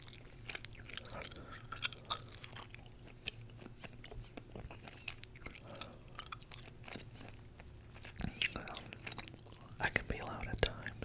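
Close, quiet whispering runs throughout alongside soft, wet gum chewing with small crackles and snaps, the mouth sounds coming in irregular bursts very near the microphone.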